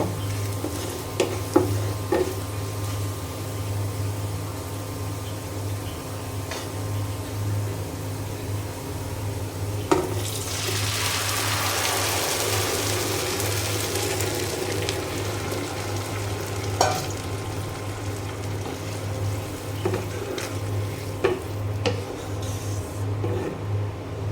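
New potatoes tipped into a pan of fried onions for aloo ghonto, a continuous frying hiss that swells into a louder burst of sizzling midway, with a constant low hum and scattered clicks underneath.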